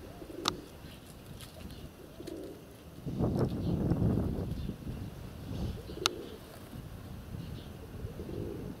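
Pigeons cooing in low, soft repeated phrases, several separate coos spaced across the stretch with a gust of wind noise in the middle and a few faint sharp clicks.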